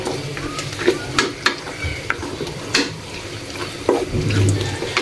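Fish sautéing in a pan for a Bengali olive and fish dish, with sizzling frying noise, stirring clatter and intermittent scraping sounds throughout.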